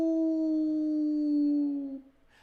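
A person imitates a wolf howl with the voice: one long, steady, sustained tone held for about two seconds, then fading out, loud and close with no other talk.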